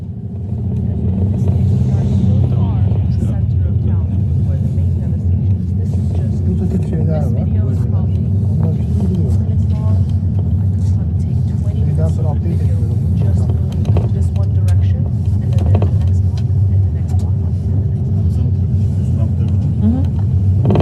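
Inside a car driving along a city block, a phone held at the window picks up a constant low engine and road rumble, steady and loud, while people talk throughout.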